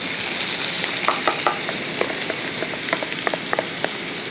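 Chopped onions hit hot oil in a kadai, giving a strong, steady sizzle peppered with sharp crackling pops close by.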